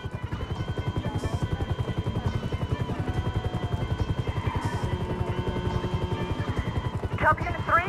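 A police helicopter in the video game GTA 5 thrums with fast, steady rotor chops throughout, close and loud, while voices talk over it near the end.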